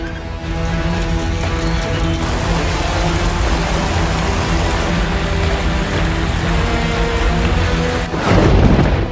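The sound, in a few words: heavy monsoon rain and thunder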